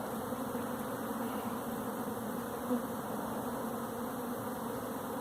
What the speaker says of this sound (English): If you look up in the air, they're swarming